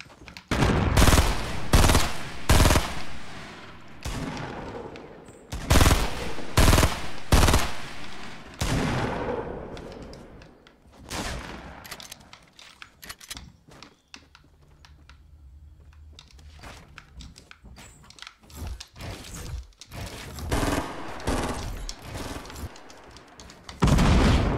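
Gunfire in the video game Fortnite Battle Royale, with a mountaintop shooter firing on players below: loud bursts of rapid shots in clusters, separated by quieter stretches of game ambience.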